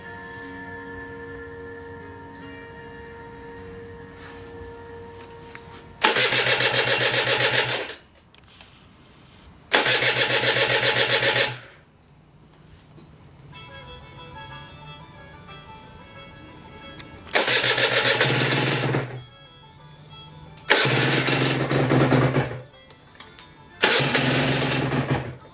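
A freshly rebuilt Aprilia RS125 motorcycle engine with a tight feel turns over, giving five loud, separate bursts of cranking and firing between quieter pauses with a faint hum.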